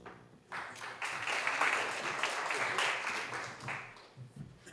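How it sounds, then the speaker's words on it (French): An audience at a firefighters' recognition evening breaks into sustained applause, a full, dense roar of clapping that swells quickly, holds for several seconds, then tapers off. "ça vaut une très bonne main d'applaudissement"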